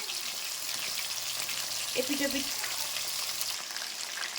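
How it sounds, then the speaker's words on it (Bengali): Fish frying in a pan of hot oil, a continuous hissing sizzle at moderate level with a faint brief tonal sound in the middle. "দেখো মাছ ভাজা কিন্তু আমি বসিয়ে দিয়েছি"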